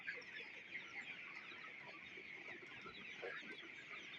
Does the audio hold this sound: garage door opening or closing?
no